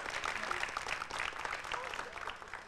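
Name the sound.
audience applause at a juggling performance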